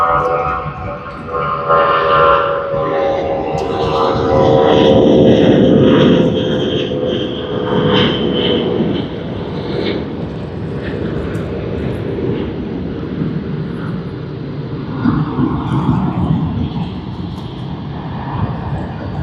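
A LATAM Airlines Boeing 787 Dreamliner at Sydney Airport gives a steady, loud engine roar with shifting tones that swell mid-way and ease off, continuous throughout with no speech.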